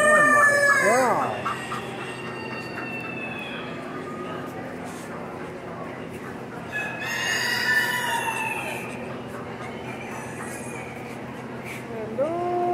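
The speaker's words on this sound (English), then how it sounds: "Yeah, that's a cock right there." A large rooster at a state fair crows loudly nearby, followed by more crowing and clucking, with people talking over the barn noise.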